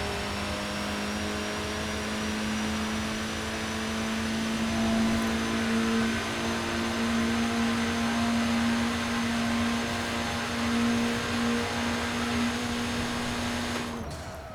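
Cabin view of a 2016 Abarth 695 Biposto in Forza Horizon 4, its engine holding a constant, strong tone that climbs slowly in pitch, loud and continuous with no voices, cutting off near the end.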